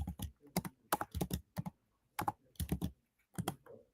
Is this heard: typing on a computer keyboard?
yes